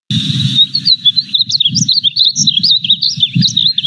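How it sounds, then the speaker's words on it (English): Victoria crowned pigeons calling, loud and close, with high warbling chirps over repeated low pulsing coos in an uneven rhythm. "Victoria crowned pigeons are large, striking birds found in the rainforests of New Guinea and surrounding islands."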